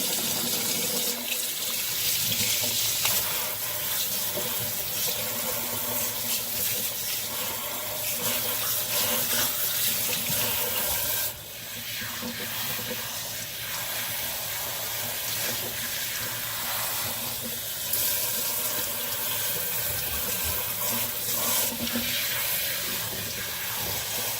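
Tap water runs steadily into a sink while hair is shampooed, a continuous close splashing hiss that lasts the whole stretch, dipping briefly midway.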